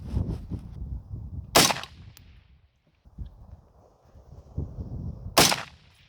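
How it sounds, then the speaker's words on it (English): Two sharp rifle shots fired at a target 300 yards away, spaced about four seconds apart and heard outdoors over low wind rumble and handling noise. "Okay, first shot's at 300."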